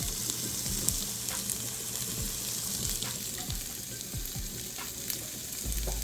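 Black lentil mixture cooking down in a pan: a faint, steady sizzle with occasional soft stirring taps and scrapes, close and without talk.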